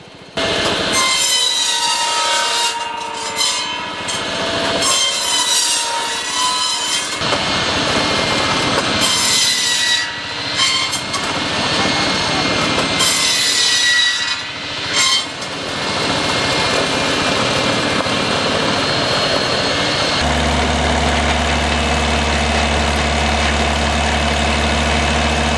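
A 22 hp Lanz tractor engine drives a saw at an outdoor farm field day, the saw whining and screeching loudly in repeated cutting passes over a steady engine drone, ending with the low, thumping idle of the engine alone.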